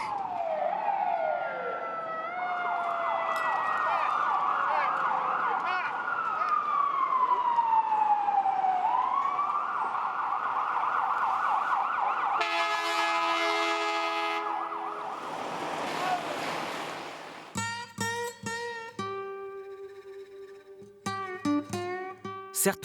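Wailing ambulance and police sirens sweep up and down through New York traffic, loud and continuous, then break into short whoops and yelps toward the end.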